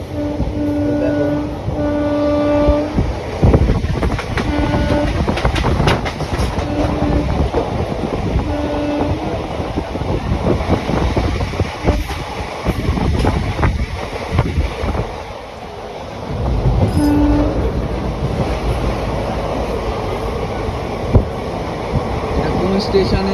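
A moving passenger train bound for Tarapith rumbles and clatters steadily over the rails, loud and continuous from inside the carriage, with voices talking in the background.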